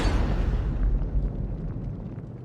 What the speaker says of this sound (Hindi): ऐसा धमाका कि उनके कान के पर्दे फट गए।